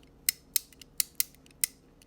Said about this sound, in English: I have here built an upper assembly with a switch that, as you can tell, moves the driving ring.